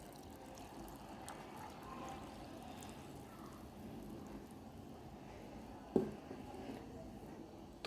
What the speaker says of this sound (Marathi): कोमट पाणी ओतून घ्यायचे.